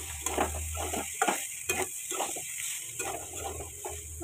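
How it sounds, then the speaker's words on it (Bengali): Pasta frying in a pan with oil and turmeric: a continuous sizzle beneath repeated scraping strokes of a spoon stirring, close and moderately loud, with a steady background hum and no talking. "এবারে পাস্তাটা এর সাথে ভাজা ভাজা করবো।"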